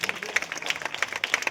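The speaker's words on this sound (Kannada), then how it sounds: "ಅದಕ್ಕಾಗಿ ಅವರ ಒಂದು ತಂಡಕ್ಕೆ ಜೋರಾಗಿ ಚಪ್ಪಾಳೆ ಸೇರಿಸಿದ್ದಾರೆ" A small group applauds an organizing team at a children's kho-kho tournament run by a charitable trust, with scattered, uneven claps over a brief moment, fairly faint and thin.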